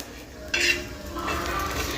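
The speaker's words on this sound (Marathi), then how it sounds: "इकडे तव्यावरती ना खोबरं पण आहे ना परतण्यासाठी ठेवलेले आहे आणि थोडंसं परतून घ्यायचं आहे" Coconut is stirred and roasted on a tawa. A single close metal clink is followed by a soft, steady hiss of the coconut toasting, with no talk.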